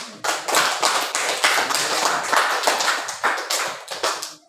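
Classroom group clapping after a student presentation, a few close hands slapping in a rough, uneven rhythm, loud and alone.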